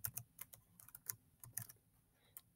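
Typing on a computer keyboard nearby: a quick irregular run of sharp key clicks in short bursts, then a pause and one last tap, heard alone without talk.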